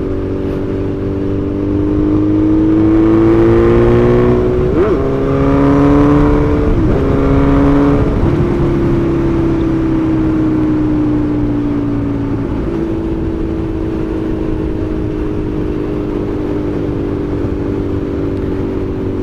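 A Suzuki Bandit 1250 motorcycle engine drones steadily while riding, its pitch rising and falling through several throttle changes and gear shifts, loud and close with no talking.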